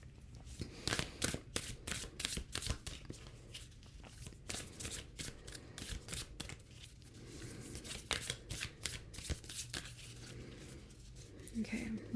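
Oracle cards being shuffled by hand, a close, crisp run of riffling and flicking bursts in quick repeated bouts, with a soft voice talking over them.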